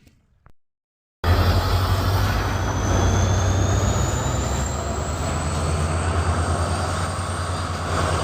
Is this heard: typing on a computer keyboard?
no